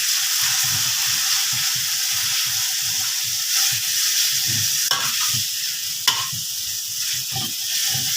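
Pork neck stir-frying with garlic and pepper in a pan, a steady loud sizzle with repeated scraping and stirring strokes of a utensil, plus a couple of sharp clinks against the pan.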